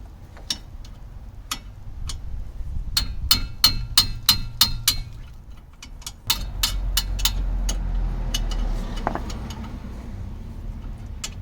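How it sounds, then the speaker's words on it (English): Sharp metallic hammer strikes ring out in quick bursts against a 17mm steel spanner loosening a brake bolt on a Fiat 500, a dozen or so in uneven rhythm, then a few more over a low rumble. "putting it in there and then loosening it with a hammer"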